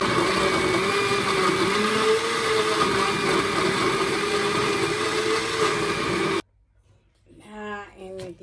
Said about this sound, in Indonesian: Jadi ini saya blender habis semua.